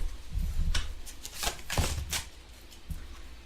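Tarot cards are shuffled by hand for a reading, soft riffling and tapping in several short bursts, quiet and close with no voice.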